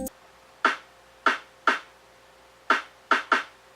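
Six short, dry, muted snare hits, crisp and close, played alone in an uneven pattern with quick decays.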